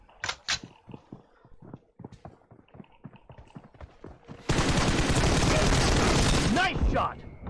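Gunfire in a mobile shooter video game team deathmatch: scattered sharp shots and footstep-like taps, then a loud, dense stretch of sustained rapid fire lasting a few seconds before cutting off.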